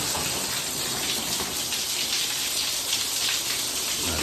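Heavy rain pours during a storm, a loud, unbroken roar of drops striking the ground nearby, with no talking.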